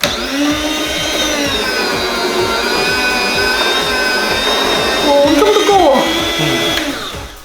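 A home meat slicer whirs at close range while cutting meat for bulgogi, its steady motor whine carrying a rhythmic low thumping from the blade, with a brief pitch shift near the end.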